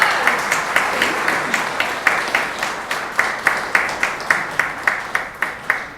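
An audience at a city of Lockport gathering applauds, a steady wash of many hands clapping with a pulsing rhythm of louder claps, close and sustained throughout.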